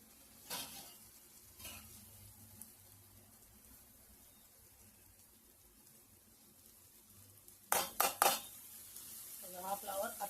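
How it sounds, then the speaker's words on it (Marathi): Cauliflower being stirred into spice masala in a pan makes a faint, low sizzle, with a few soft scrapes early on and a burst of loud utensil clatter and scraping near the end. "मी या फ्लावरला आता मी या फ्लावरला चांगलं हलवून घेते"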